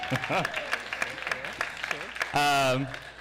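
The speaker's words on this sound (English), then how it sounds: "And so, applause." Audience applause at a community talk in a Unitarian Universalist setting, a broad patter of clapping running under a speaking voice, with a voice briefly rising louder near the end.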